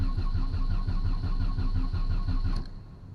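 An old Volkswagen engine, a cheap car left sitting for 19 years, cranks over steadily with a rapid rhythmic chug that stops abruptly near the end, leaving a fainter hum.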